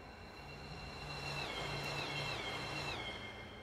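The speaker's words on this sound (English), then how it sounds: "Well, there goes the local passenger." A local passenger train passes by in the Train Simulator game on the Salzburg–Rosenheim line, a faint steady rumble with whining tonal notes that shift in pitch as it goes by.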